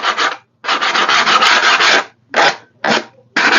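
Coarse 80 grit sandpaper rubbed over an egg, loud close scratchy strokes in several bursts with short pauses between them.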